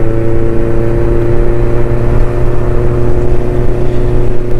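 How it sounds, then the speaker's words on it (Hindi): A deep, steady motorcycle exhaust rumble from a 2024 Benelli TRK 502 drones loud and close, unbroken and even for the whole stretch. "एग्जॉस्ट की साउंड यस सुनने को मिल रही होगी आपको। आई एम लविंग इट, जो रमलिंग हो रही है"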